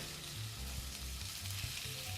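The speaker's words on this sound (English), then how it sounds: "I love that sizzle. That sound of the sizzle." Beef strips sizzle steadily in a hot pan, a constant crackling hiss with small pops, close up and with no talking.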